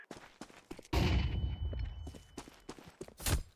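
A flashbang grenade detonates in a video game with a sudden sharp burst followed by a sustained high ringing whine, preceded by scattered clicks and footsteps and ending with another loud pop; near and loud, no talking.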